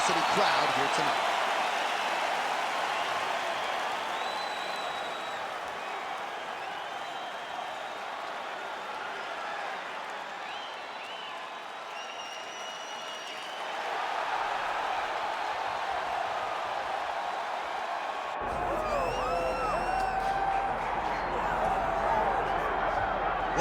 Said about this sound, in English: ready to make a statement in front of this capacity crowd here tonight